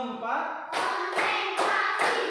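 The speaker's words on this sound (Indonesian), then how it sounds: "Tepuk 1, tepuk 2, tepuk 3, tepuk 4," A primary school class in Indonesia claps hands together in a counted rhythm, four loud group claps spaced about half a second apart, heard close after a brief stretch of voice.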